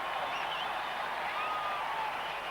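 Stadium crowd at a Test cricket match between India and Sri Lanka roaring and applauding a boundary by the home team, a steady broad wash of cheering and clapping throughout with no one speaking.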